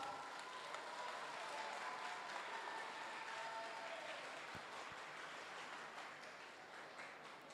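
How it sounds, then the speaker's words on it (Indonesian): Applause from a crowd at a national-level school sports carnival, a steady wash of clapping that holds at an even level for several seconds and thins slightly toward the end, with no speech over it. "Berikan tepukan sikit untuk negeri Pahang."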